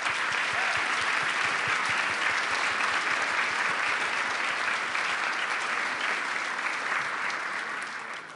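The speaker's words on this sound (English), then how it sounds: "Give them another round of applause." Sustained audience applause at a conference in Munich, loud, dense clapping from a large crowd holding steady for around eight seconds and easing slightly at the close.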